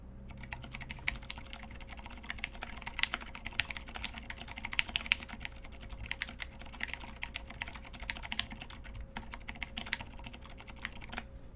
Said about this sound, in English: And this is the first typing test.